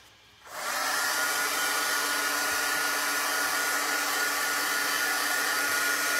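A hair dryer clicks on after a brief quiet moment and then blows with a steady, loud whooshing hum, drying a chalk paste stencil up close.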